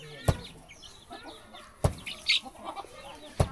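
Chickens at a rural Lao village cluck and squawk softly while being fed, with three sharp nearby thuds or pecks spaced through the scene; no talking.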